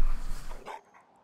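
A dog barks in Fallout 4, a few quick close barks and yips packed into about half a second, then quiet.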